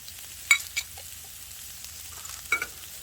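Onions sizzle on a 36-inch outdoor flat top griddle, a soft steady frying hiss broken by a few quick scraping stirs of a spatula, close by and with no talking.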